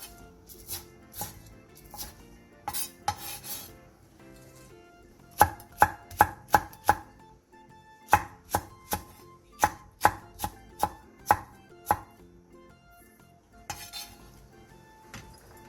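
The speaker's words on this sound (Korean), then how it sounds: "양파 2분의 1개를 1cm 정도 두께로 채 썰어주세요 대파 2분의 1개, 청양고추 1개, 청양홍고추 1개를 길게 어슷썰게 해주세요" A knife slices onion, green onion and green and red chili peppers on a cutting board for kimchi jjigae, producing bursts of quick rhythmic chops with pauses between batches, close and crisp.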